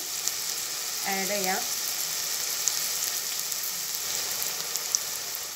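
Onion fries in a pan with a steady, close hiss and crackle that runs throughout, and a voice briefly speaks over it.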